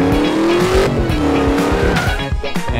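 Car engine roaring with tires squealing and skidding in the crash-physics game Turbo Dismount, loud and continuous across the whole stretch with a rising engine whine.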